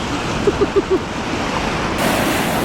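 Waves crash and wash along the Ohio River on a cold November morning, a steady rushing roar with wind buffeting the microphone and a few brief low thumps.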